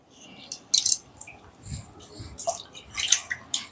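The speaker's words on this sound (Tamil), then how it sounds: "தண்ணியெல்லாம் ஸ்குவீஸ் பண்ணி எடுத்துடணும்" Wet squishing and soft dripping as cleaned, rinsed prawns are squeezed by hand to press the water out, with scattered small splats and crackles close up and no talking.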